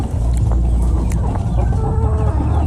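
Chickens cluck and murmur close by over a low, busy background rumble, with occasional sharper calls.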